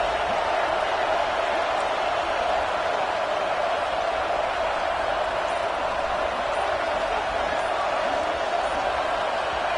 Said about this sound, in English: This crowd is trying to inspire this defense to make a big red zone stop.